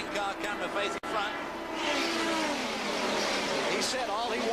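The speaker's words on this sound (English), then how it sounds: "Harry Gant screaming down the back straightaway in car number 33" Announcer talks over a roaring NASCAR stock car engine at the 1982 Daytona 500 as Harry Gant's number 33 screams down the back straightaway, a loud continuous drone with rising pitch sweeps.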